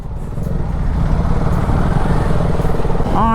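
A motorbike rides along a winding mountain ghat road on the old Mumbai–Goa highway, its engine a steady, close drone that continues throughout with wind noise.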